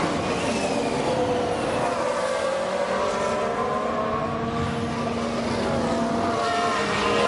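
Ferrari Formula 1 car in the F1 Manager 22 racing game, a steady high engine whine with shifting harmonic pitch sweeping past, loud and continuous without voices.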